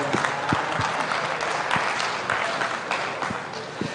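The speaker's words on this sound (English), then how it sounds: "let's give these exhibitors a round of applause" Crowd at a cattle show ring applauding exhibitors of cow-calf pairs, sustained clapping from many people with a few sharp individual claps standing out, fairly loud and even throughout.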